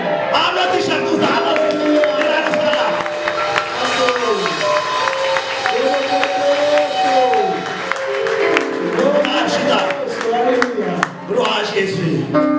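A church congregation applauds amid worship, with clapping mixed into a busy wash of voices, shouting and singing-like talk that runs continuously over the whole stretch.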